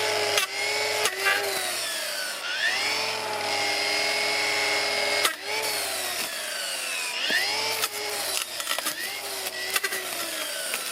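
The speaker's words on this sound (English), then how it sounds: "If I bump the saw against these little trees, it seems to cut through them much quicker and easier." A Milwaukee M18 brush cutter with a saw blade whines continuously as it bumps and slices through small trees along a trail, its pitch dipping and recovering with each cut, close and steady.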